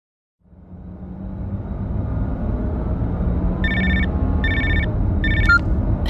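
A telephone rings in three short bursts with brief gaps, the last one cut off, over steady low road rumble inside a moving car.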